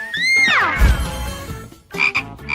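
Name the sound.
frog croaking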